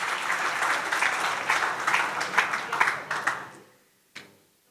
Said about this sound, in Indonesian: beri tepuk tangan sekali kepada ketiga narasumber kita yang hebat ini